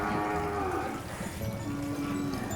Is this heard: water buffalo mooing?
yes